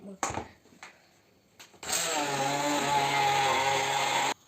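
After a few light clicks and taps, a kitchen blender whirs loudly and steadily for a couple of seconds mixing syrniki batter, then stops.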